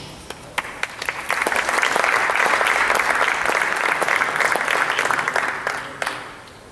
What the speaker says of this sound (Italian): Tributerei un applauso.